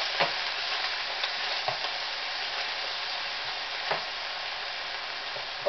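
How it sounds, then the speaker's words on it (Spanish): Meat sautéing over high heat for a rice-and-vegetable dish, a steady hiss of frying fat with a few soft stirring knocks, close and alone without talk. "Vamos a sofreír primero nuestra carne."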